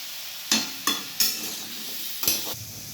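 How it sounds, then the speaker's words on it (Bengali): Potatoes frying in a pan with spice mix and a splash of water, stirred in several distinct scraping strokes over a steady soft sizzle, close and fairly loud. "খুবই সামান্য একটু জল দিয়ে এটাকে ভালো করে মশলার মিশ্রণটাকে মিশিয়ে আর একটু কষিয়ে নেব"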